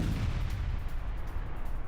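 A landmine goes off during mine clearing in wartime: a heavy, rolling low rumble from the blast fills the whole short stretch, loud and continuous, with no voices.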